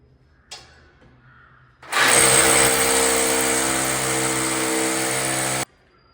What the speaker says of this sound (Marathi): 4 मजल्याचे 4 होल होते ते ड्रिल मिशननं मी पूर्ण केल्यात